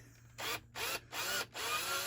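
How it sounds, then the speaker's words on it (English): Power drill boring into a motorcycle gear selector ball joint on a Triumph 955i Sprint, running in three or four short bursts with brief pauses between them, close and fairly loud, with no speech. "Okay, drill replaced. Let's try."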